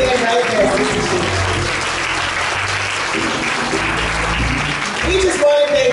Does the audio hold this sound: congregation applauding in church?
yes